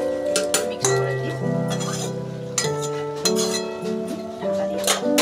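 A metal lid clinks onto a pan of shrimp and banana flower curry after the gas stove is switched off, producing several close, bright clinks over a steady tonal background.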